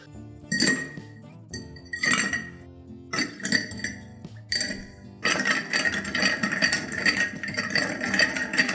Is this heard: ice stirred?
yes